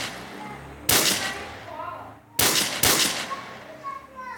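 Three sharp gunshot bursts ring out in a Minecraft game, the second and third coming close together, over a faint background and low chatter.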